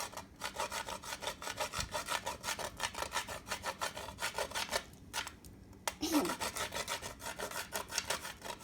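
A banana is rubbed back and forth on a grater for banana bread, with quick rhythmic rasping strokes up close that pause briefly in the middle and then resume.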